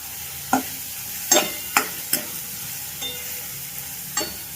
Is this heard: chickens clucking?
no